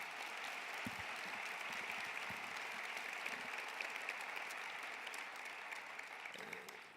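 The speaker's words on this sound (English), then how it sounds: "that deserves a round of applause, actually" A civic crowd at a mayor's address gives a round of applause, steady massed clapping sustained at moderate volume from start to finish with no talking over it.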